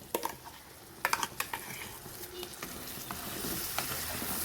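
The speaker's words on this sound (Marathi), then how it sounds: "आता यामध्ये आपण जे वाटण तयार केलेलं आहे ते घालूया" Ground masala paste added to a pan of softened tomatoes for a prawn curry, crackling and sizzling up close, with scattered spatula scrapes and clicks while the frying hiss grows steadily louder; no talk.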